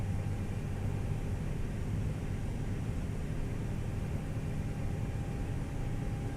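Engines of a ToLiss A321 airliner spool up in the X-Plane 11 flight simulator, a low, steady rumbling drone with a faint rising tone and no talking.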